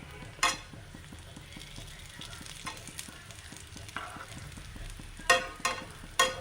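Nendran plantain frying in a pan gives a steady close sizzle with occasional sharp clinks and scrapes of stirring, no talking.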